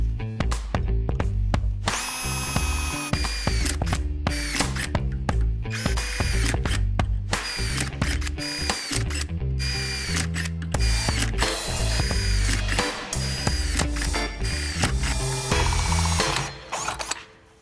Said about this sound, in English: drill a pile of holes in it